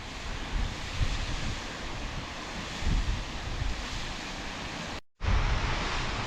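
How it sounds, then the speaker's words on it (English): Steady broadband rush of water from a waterfall on wild Scottish sea cliffs, constant and fairly loud with low wind buffeting, broken by a brief dropout near the end. "We're literally just standing taking it in, watching the waterfall."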